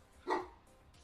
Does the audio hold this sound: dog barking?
yes